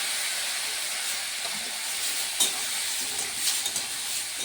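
Soybean chunks stir-fried with spices in a pan for a lunch dish, a steady bright sizzle and hiss throughout with a few soft scrapes of the spatula, moderately quiet.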